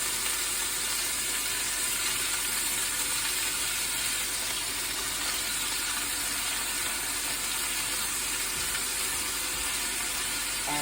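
Ground turkey frying in a little oil in a pan, being broken apart, gives a steady dense sizzle with faint scraping and stirring throughout, close and continuous with no talking.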